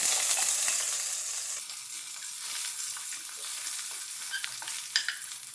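Crushed unpeeled garlic fries in oil for beetroot rasam, a steady hiss that softens a little and then picks up a few sharp pops and crackles.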